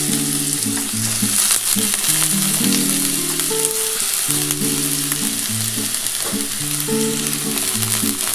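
Carrots fry in hot ghee in a wok with a steady, even sizzle, while background music with sustained tonal notes plays underneath.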